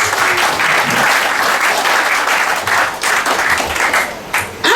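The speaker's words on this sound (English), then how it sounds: "give a mighty clap for Jesus" Church congregation claps loudly and steadily during a sermon, many hands merging into a dense, sustained wash of applause close by that thins out briefly near the end.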